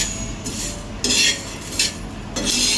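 Health mix ingredients are fried in a metal kadai, and a utensil scrapes and rattles against it in several loud, close bursts over a steady background hiss.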